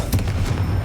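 A fire spell blast in Hogwarts Legacy lands as a short, heavy booming burst with a rumbling low end, close and loud, lasting under a second.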